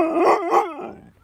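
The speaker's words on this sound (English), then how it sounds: "Don't bark." A mouthy dog at a dog park gives a drawn-out, howling bark in two rising and falling pulses, close and fairly loud, with no talking.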